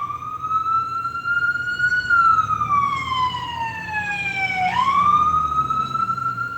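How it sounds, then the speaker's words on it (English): An emergency vehicle siren wails steadily and fairly loudly in the background, its pitch rising and falling as it sweeps, with low traffic rumble underneath. "I always got some damn sirens in the background"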